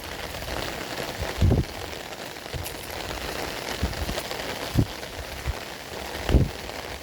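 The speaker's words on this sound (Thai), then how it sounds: "ฝนตก มานอนหมวน" Rain pours down in a continuous wash, heavy steady patter broken by a few louder drips or splashes landing nearby, with no voices present.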